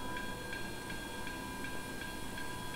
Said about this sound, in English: Bell is operated.